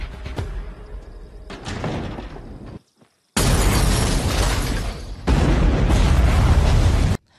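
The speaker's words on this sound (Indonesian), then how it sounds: "selfie kasih salam pembuka pakai granat, kayak lemparan bola bowling yang sempurna" Grenade blasts in a film action scene at a gang hideout, with loud roaring bursts of explosion and debris, a brief silent gap, then two sustained heavy blasts one after another.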